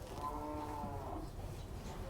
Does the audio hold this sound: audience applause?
no